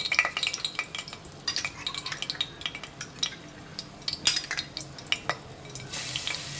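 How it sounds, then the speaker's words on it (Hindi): Garlic and green chilies dropped into hot oil for a mustard-greens dish, crackling and spattering in quick irregular bursts with a spoon stirring against the pan, close and fairly loud. "अब इसमें हरी मिर्च और लहसुन डालेंगे।"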